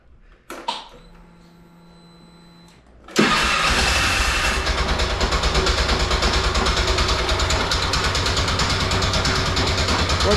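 A 2012 Polaris Ranger 500 EFI starts after a few faint clicks and a quiet pause, then catches and settles into a loud, steady, close idle with a rapid, even engine pulse.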